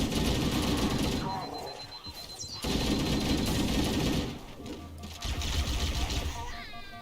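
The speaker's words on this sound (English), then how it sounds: "I love the plasma rifle." A plasma rifle fires in the video game Halo: Combat Evolved, rapid rattling bursts of shots in two main stretches separated by short pauses, with faint electronic effects around them.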